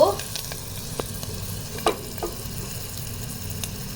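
Garlic fries over a low gas flame for pea soup while being stirred, a quiet continuous sizzle broken by occasional light scrapes and taps of the spoon against the pan, with no voices.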